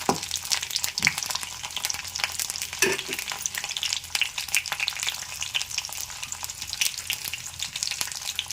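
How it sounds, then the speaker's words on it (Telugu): Raw banana pieces frying in oil in a pan, a continuous crackling sizzle with occasional louder pops and clatter of stirring, close and steady for several seconds. "చక్కగా ఏగుతున్నాయి చూసారు ఈ రకంగా ఏగుతున్నాయి"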